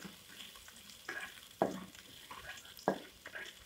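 Shallots frying in a pan for a simple Indonesian home-style dish, a soft steady sizzle broken by several short scraping stirs of a utensil, close and moderately quiet.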